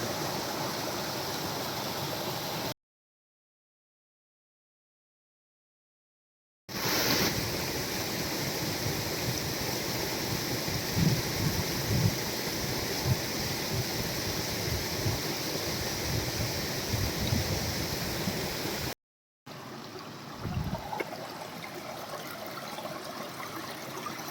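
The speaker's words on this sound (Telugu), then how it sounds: "ఇది కటికి వాటర్ ఫాల్స్." Katiki waterfall in Araku rushes with a constant broad roar of falling water, loud and steady, cut by two brief silent gaps and ending quieter, with no talking.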